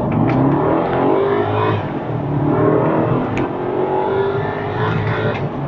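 A BMW 650i in sports mode launches hard from a standstill, its engine revving loud and close, rising through the gears with a brief drop between pulls.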